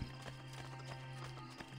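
Steady clip-clop of horse hooves at a brisk gait in the video game Assassin's Creed: Brotherhood, close and continuous, with a low constant hum underneath.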